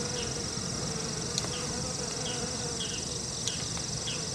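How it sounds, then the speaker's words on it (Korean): A wasp buzzes faintly over a farm field, a thin steady drone with brief passes amid a quiet insect-filled outdoor hum, no talk. "저기 말벌도 오고 있는"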